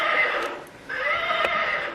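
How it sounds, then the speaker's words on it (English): A horse neigh tied to a rocking horse toy in a long-locked abandoned house, two loud whinnying bursts close by, separated by a short dip, with no talk. "a horse neighing."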